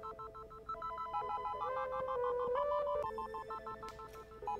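An incoming FaceTime audio call rings on a phone, giving a steady repeating electronic ringtone pattern that plays on its own without speech.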